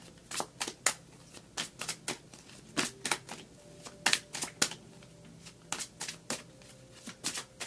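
Tarot cards shuffled and drawn by hand, a series of crisp close riffling snaps and light slaps in irregular bursts, quiet and without speech.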